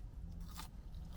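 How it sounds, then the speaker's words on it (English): Crunching bite into Wendy's chips (fries) at the first Wendy's in Kent, a single short crisp crunch close to the mic, faint against quiet room background. "Chips are lovely. They really stay crunchy."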